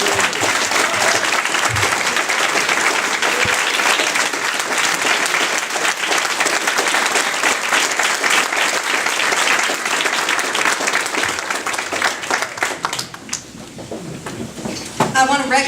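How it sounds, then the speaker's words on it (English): A large reunion crowd honoring the Lynwood High School integrators breaks into sustained, dense applause that fills the room for about thirteen seconds before thinning out, with voices and cheers mixed into the clapping. "we'd like to give you the first round of applause of the evening"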